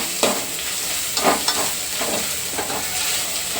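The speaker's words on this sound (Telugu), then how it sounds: "ఈ పసుపు అలాగే అల్లం వెల్లుల్లి పచ్చివాసన పోయేంత వరకు చేసుకుందాం" Ginger garlic paste with a little turmeric frying in a pan, a steady moderate sizzle broken by several soft stirring scrapes at an uneven pace, with no talking.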